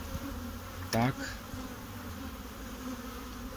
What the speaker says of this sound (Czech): Sklepneme včeličky.